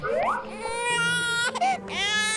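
A Baby Born toy doll cries in a loud, sustained infant wail with rising pitch and short breaks, close up, with a voice faintly underneath.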